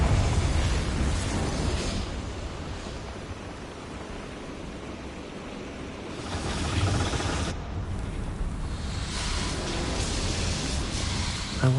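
A Confringo fire explosion spell cast in Hogwarts Legacy, heard as a broad roaring blast of noise with booming swells, continuous and loud throughout.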